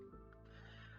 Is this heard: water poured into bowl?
no